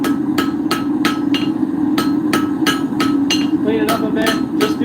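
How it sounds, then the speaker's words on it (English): Hot iron stock for a mulling iron is hammered at a forge to knock off scale, a steady series of sharp, ringing metal strikes at an even pace over a constant background roar, close and loud. "So we're just going to kind of flake off some of the scale."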